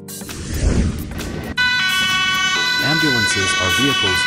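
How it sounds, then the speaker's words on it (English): Ambulance siren wailing loudly and nearby, its pitch sweeping up and down over steady traffic noise, with a voice speaking at the start. "Ambulance."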